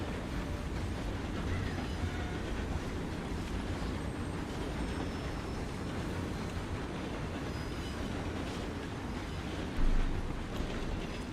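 A train in Red Dead Redemption 2 rumbles past in a steady, dense roar of rolling wheels and rattling cars, holding an even loudness throughout with a brief bump near the end.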